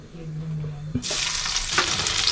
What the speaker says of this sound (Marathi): आता मी याच्यामध्ये पहिला आहे ना लसूण टाकते.